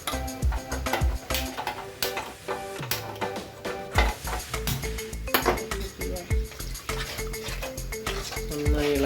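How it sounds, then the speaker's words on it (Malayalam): Chicken curry gravy is stirred in a cooking pot, with repeated metallic clinks and scrapes of a spoon against the pot. The stirring is close and busy, and a voice can be heard faintly. "നന്നായി ഇളക്കി കൊടുക്കാം."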